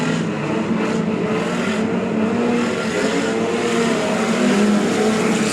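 Streetstock race cars at the East Coast Streetstock Champs in New Zealand blast off the starting gate together, a loud, dense, continuous engine roar that holds steady throughout.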